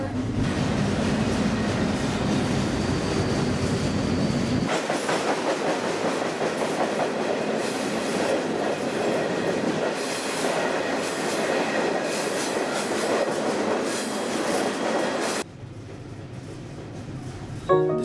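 Canadian freight train rolling past, heard from aboard the cargo train: loud, continuous rumble with rhythmic clickety-clack of wheels and stretches of high metallic wheel squeal, then an abrupt drop in level near the end.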